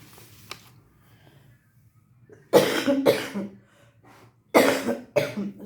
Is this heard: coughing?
yes